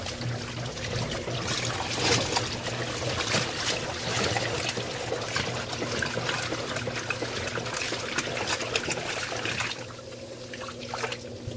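Water draining from an Electrolux LPR16 washing machine, a soft steady trickle and rushing flow with a low mechanical hum underneath, fairly quiet and continuous, easing slightly near the end.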